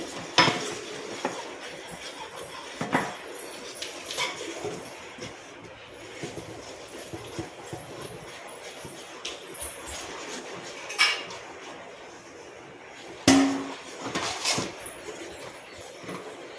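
A rolling pin stirs rice flour into a pot of boiling water, giving scattered knocks and scrapes against the vessel over a steady low bubbling, with a few louder clanks; no talking.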